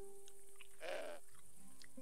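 A goat in the Broken Sword 5 point-and-click adventure gives a single short bleat, clear and close, over quiet game ambience with faint background tones.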